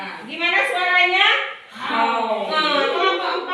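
A group of schoolchildren imitating a lion's roar in two long, loud overlapping vocal bursts, close by, with a hint of giggling.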